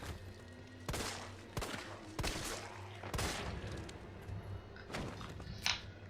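Gunfire in Resident Evil 3 Remake on PS4, a series of sharp, separate shots spaced about a second apart over a low game ambience, moderately loud with no talking.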